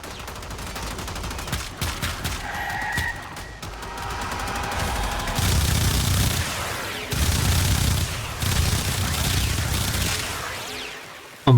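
Dual Toxocyst pistols fire in Warframe: bursts of rapid gunshots with brief pauses between them, loud and close, and heavier sustained volleys in the second half.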